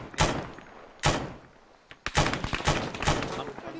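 Enemy AK rifle fire in the military game Arma 3: sharp broadband gunshots, a single crack, another about a second later, then a rapid burst of several shots close together, loud and near.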